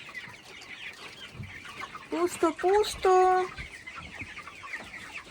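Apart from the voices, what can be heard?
roosters clucking in a shed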